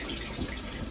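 Cold water runs from a tap during C41 colour film developing, a short, steady, soft rush of flowing water with no voices.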